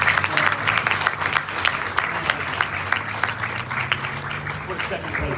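A county fair game show audience claps steadily for several seconds, a moderate, continuous patter of applause with faint voices mixed in.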